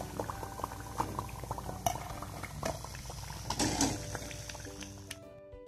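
Bread breakfast snack frying in oil in a pan gives a steady, soft crackle and sizzle throughout, with occasional light clinks of a utensil against the pan.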